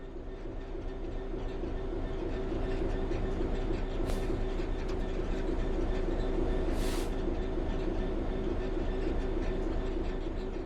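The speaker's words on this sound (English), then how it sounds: "The train will then coast on level ground, and the train will only slow down very gradually." A train coasts on level track in the Train Sim World 3 video game, giving a steady rumbling roll with a low drone and faint rhythmic rail clatter, plus two brief hissing bursts midway.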